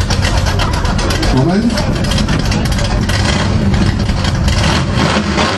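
Ford Mustang Eleanor engine running at a steady, loud idle during an engine noise measurement, a continuous dense rumble with a brief rev, while people talk nearby.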